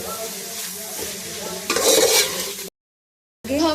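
Spices such as turmeric and black pepper being stirred into a vegetable macaroni mixture in a pan, with steady scraping and a brief louder sizzle before a short gap, no talking.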